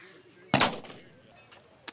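Single sharp buffalo rifle shot at an outdoor shooting event, a loud crack that decays into a rolling echo, with faint softer pops and distant voices after it.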